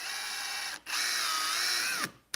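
A power drill runs in a steady whining burst, pauses briefly, then runs again while boring a hole for rod storage on a Bass Tracker boat, close and clear with no voices.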